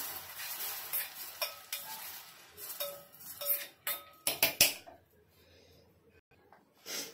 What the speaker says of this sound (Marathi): हे पण ड्रायफ्रुट्स पण भाजून घेऊया चांगले।